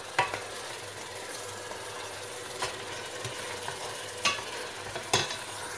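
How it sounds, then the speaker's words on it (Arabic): Sauce for Moroccan chicken couscous fries in a pot, a steady soft sizzle broken by a few faint scraping stirs. "كما شفتوا راه خاصو يتقلى مزيان في ديك لاصوص"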